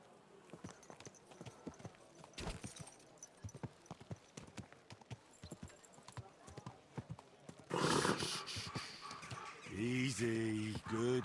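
Steady horse hooves clip-clop in an uneven rhythm in the video game Kingdom Come: Deliverance II, with voices talking over them, then a louder whoosh of noise and a horse whinnying near the end.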